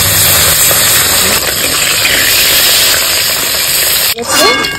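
Loud, steady sizzling of fish frying in hot oil in a wok, a continuous hiss with a brief clatter near the end.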